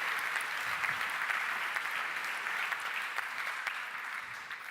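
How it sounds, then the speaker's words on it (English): A conference audience applauds steadily for several seconds, a dense even wash of clapping heard from within the room with no voices over it. "And big clap for Andreas."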